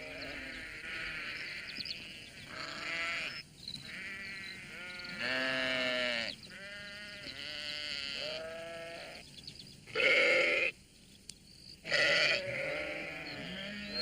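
A sheep bleats repeatedly in an animated countryside scene, wandering in a cottage garden. Its harmonic calls come in several drawn-out bursts over soft background sound, with a few sharper, brighter noises near the end.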